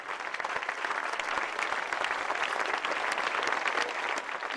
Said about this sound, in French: Et au moment des applaudissements